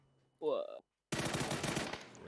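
Rapid automatic gunfire from a PUBG esports match, a loud steady stream of shots lasting under a second, preceded by a short voiced sound and a moment of silence.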